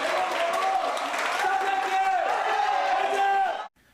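Students watching a Paris Olympics men's sabre team fencing match send up a loud, sustained roar of cheering for the Korean fencers. Mixed shouts and whoops swell together, then cut off abruptly near the end.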